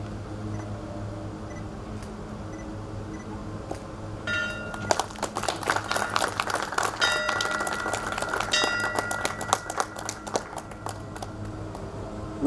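A closing bell rings repeatedly at a World Investor Week 2022 ceremony, a dense run of bright metallic strikes beginning partway through and continuing steadily over a low room hum.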